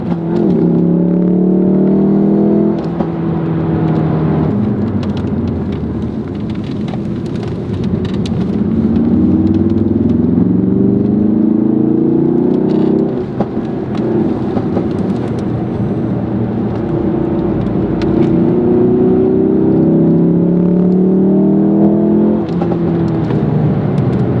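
A Ford Focus RS is driven hard around the Nürburgring GP circuit, its engine roaring continuously as it climbs and drops through the gears, loud and close from inside the car with no talk.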